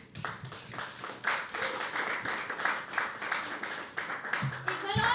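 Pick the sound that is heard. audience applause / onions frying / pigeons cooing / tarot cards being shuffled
audience applause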